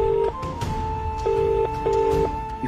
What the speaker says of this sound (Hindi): ये फोन क्यों नहीं उठा रही है मैत्री?